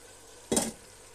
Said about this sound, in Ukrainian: І все гарно перемішуємо.